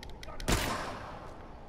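A single sharp gunshot from The Last of Us: Left Behind bursts out loud and close amid quieter game ambience, followed by a fading echo.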